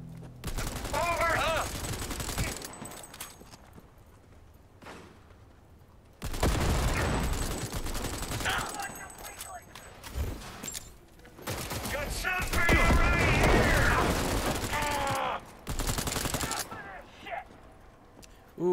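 Gunfire fills a Cyberpunk 2077 firefight, with rapid automatic bursts and heavy shots crackling in clustered volleys as combat noise surges and fades, mixed with game effects and a voice talking over the action.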